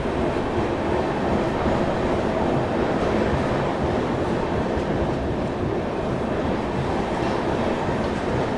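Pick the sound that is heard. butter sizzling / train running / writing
train running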